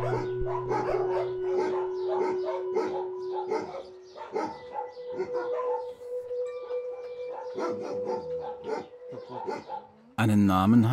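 A three-year-old stray female dog at the Smeura shelter in Romania barks and howls amid other kennel dogs, repeated yelps and drawn-out calls continuing under a narrator's voice.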